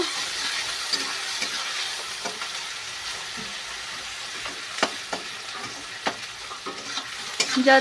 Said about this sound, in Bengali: পেঁয়াজ দিয়েছি এবার একটু নেড়ে নেব যাতে